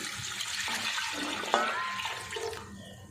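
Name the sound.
pouring water onto whole masoor lentils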